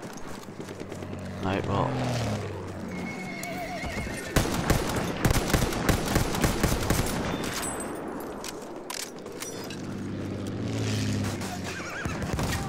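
A horse whinnies and gallops in Battlefield 1, hooves clopping amid loud bursts of gunfire and machine-gun fusillades, with a second neigh later and a player talking briefly.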